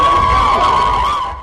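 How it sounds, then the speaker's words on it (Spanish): Thousands of people in South Sudan cheering the Pope as he passes, a loud dense crowd roar with high shouts and whoops, fading slightly at the end. "miles de personas le vitoreaban."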